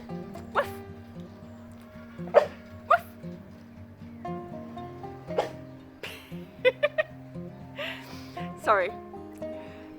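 A dog barks several times, sharp yips and woofs scattered over a steady background hum, with a voice heard among them.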